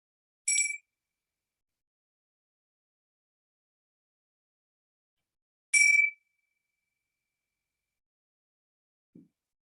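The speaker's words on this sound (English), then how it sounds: "With the sounds of the gong," A meditation gong is struck twice with bright, ringing metallic tones several seconds apart in near silence, followed by a faint low tap.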